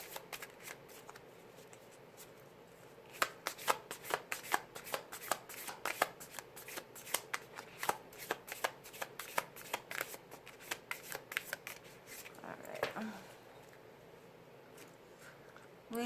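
Oracle cards are shuffled by hand, giving a long run of quick, crisp riffling and slapping clicks, close and fairly quiet, with a brief pause near the end.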